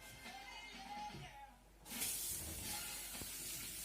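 A steady hiss of tap water running over hands starts abruptly partway through, loud and close, with faint talk before it.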